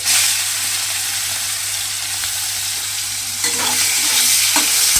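Prawns frying in hot oil make a loud, dense, continuous sizzle close at hand, with a few spatula scrapes and clinks near the end and no voices.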